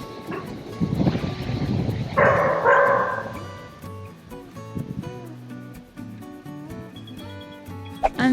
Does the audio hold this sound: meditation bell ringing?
no